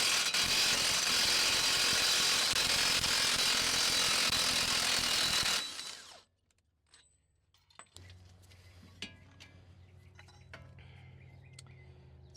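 A socket wrench turns a 27 mm nut on a Toyota or Lexus press-in wheel bearing. A loud, continuous grinding mechanical noise runs for several seconds, then cuts off into quieter scattered clicks and taps.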